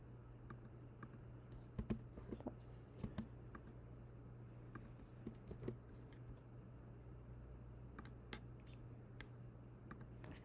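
Someone types a formula on a computer keyboard, producing sparse, faint key clicks and taps at irregular intervals over a steady low hum.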